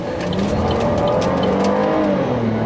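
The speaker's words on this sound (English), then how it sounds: "when you go around a corner like that and you floor it and hit boost" Holden Insignia VXR with a 2.8 litre turbocharged V6 accelerating hard under boost, a loud, steady, close engine drone rising in pitch throughout, heard alone without talk.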